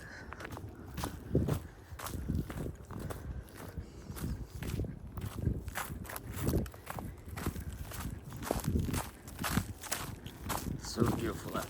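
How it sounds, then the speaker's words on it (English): Footsteps crunching steadily on frozen leaves along a cold sunny hiking fitness trail, a regular near rhythm of crisp crackling steps while a person talks over them. "Walking off frozen leaves right now."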